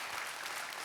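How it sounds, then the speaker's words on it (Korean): Members of a Baptist church congregation applaud during a Wednesday worship service, a brief, faint spread of many hands clapping heard from some distance. "박수 한번 하겠습니다"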